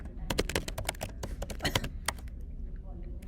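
Rapid clicking keystrokes on a computer keyboard while entering customer details, a dense cluster of crisp taps that thins toward the end, close and clear, with a voice speaking alongside.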